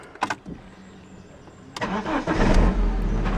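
BMW E46 engine cranking after a timing chain tensioner replacement: a few clicks and brief starter bursts, a pause, then the starter whirs and the engine catches and settles into a loud, close rumbling idle.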